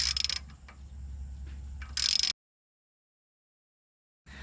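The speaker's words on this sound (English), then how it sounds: "all you need is a 7mm to go ahead and tighten that down in there" A 7mm ratchet clicks rapidly while tightening a bolt on a car's outer tie rod, two short bursts of close, loud ratcheting with a faint mechanical whine between them, then a pause before more clicking resumes.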